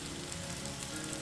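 Vegetables pan-searing in a hot frying pan give a steady, even sizzle with a fine crackle throughout, close and uninterrupted.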